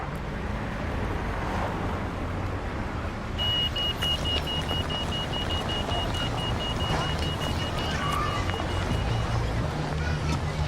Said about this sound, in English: Wait for the lights to stop the traffic.